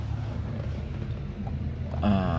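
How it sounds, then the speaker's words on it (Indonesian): After a stretch of low rumbling background, the diesel engine of a 1989 Daihatsu Taft GT 4x4 cranks and catches near the end, settling into a loud, throbbing idle. "Yuk sekarang kita nyalakan untuk mobil ini."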